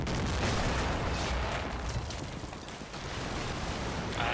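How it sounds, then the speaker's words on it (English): Artillery fire in the video game Combat Mission Shock Force 2 makes a loud, dense, sustained rumble of booms and blasts. It rolls on without a break, with no talking. "Yeah, that is accurate artillery fire. Very loud, accurate artillery fire."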